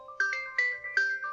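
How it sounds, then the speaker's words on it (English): Phone ringtone for an incoming call: a short repeating electronic melody of clear, evenly spaced tones, moderately loud, heard alone without talk. "I'm getting a phone call real quick."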